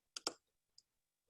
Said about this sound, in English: So I'm just going to click no.